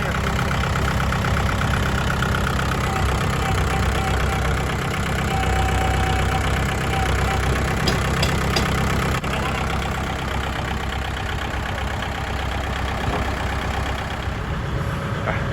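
A Kubota L5018 tractor's engine runs close by at a steady idle, its low rumble and rapid knocking pulse holding constant for the whole stretch.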